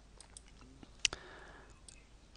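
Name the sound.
computer mouse clicking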